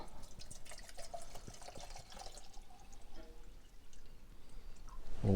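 Water pours into a well-used, slightly bent camping cook pot, a faint splashing trickle with scattered drips, close by and alone.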